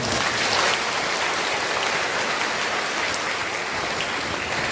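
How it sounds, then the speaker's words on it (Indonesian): Congregation at a concelebrated Mass in Stella Maris Pluit church applauding the altar servers and helpers, a broad, even wash of many hands clapping throughout, loud and steady like heavy rain. "Tepuk tangan untuk mereka."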